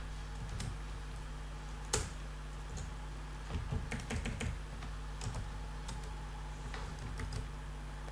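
Computer keyboard typing while PHP code is written for a coffee shop POS system, irregular close clicks and clusters of keystrokes with short pauses, over a low steady hum.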